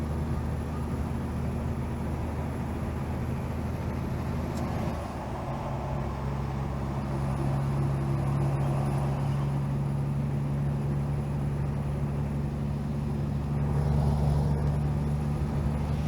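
A lighter, empty truck overtakes on an Australian road, heard from inside a heavily loaded vehicle: a steady low engine and road rumble that shifts and thickens partway through as the other vehicle draws alongside and passes.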